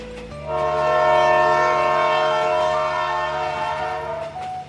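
A cartoon train horn blares in a long, loud, sustained harmonic blast as the train draws near, its tone held steady for several seconds over a low rumbling engine before easing slightly at the end.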